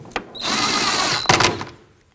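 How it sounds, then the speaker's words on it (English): A power drill drives fasteners into the plastic taillight mount of a 2013-2020 Nissan Pathfinder, whirring close and loud for about a second, followed by a clattering rattle as it stops. "And now we can put in the 3 fasteners, 2 for the taillight and 1 for the bumper cover."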